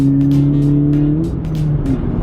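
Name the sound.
Honda Civic Type R accelerating hard with Hondata tune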